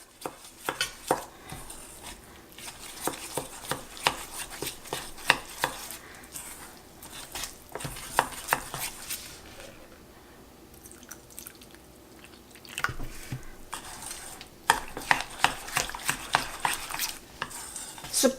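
Batter of wheat flour, rice flour, salt and water stirred in a bowl for vegetarian potato patties, a long run of close, irregular clinks and scraping taps with brief quiet pauses.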